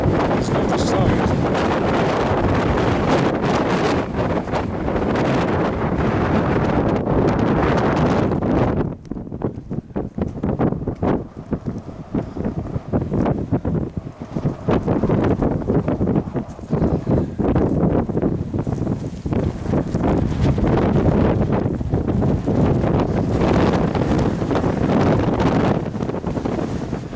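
Strong gusts batter the microphone on the shoulder of Mist Mountain in Highwood, a loud, continuous roar that dips briefly before surging back, with no speech.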